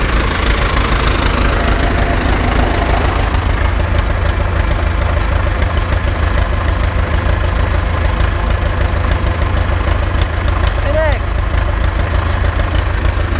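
An Ursus C-360 tractor's engine runs steadily while the trailer is tipped during field cleanup, a loud, low knocking chug throughout, with people talking nearby.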